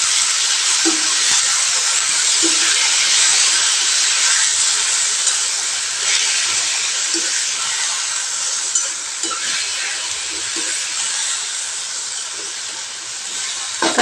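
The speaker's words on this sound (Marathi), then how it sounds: "तेलामध्ये व्यवस्थित हलवून घ्यायचं।" Spring onion greens stirred in hot oil produce a loud, hissing sizzle that runs steadily throughout, with occasional faint scrapes of a spoon in the pan.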